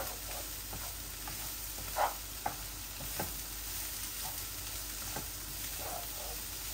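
Bitter gourd and onion frying in a little oil in a pan, a constant soft sizzling hiss with occasional light scrapes and taps of stirring.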